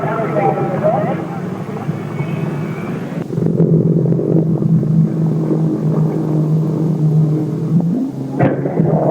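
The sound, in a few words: 1958 sports cars racing at Lake Garnett Grand Prix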